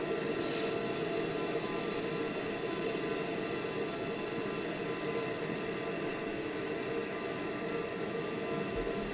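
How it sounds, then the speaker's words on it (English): Steady, droning engine roar of a TBM 930 turboprop in reverse thrust in Microsoft Flight Simulator, holding loud and constant throughout with no talk. "This is the TBM 930. Slick looking plane, reverse thrust."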